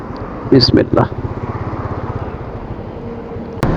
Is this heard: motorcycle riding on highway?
yes